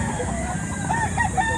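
Roosters crow amid the constant din of a busy Saturday chicken market in Lipa, Batangas, their calls partly buried in dense clucking and crowd noise.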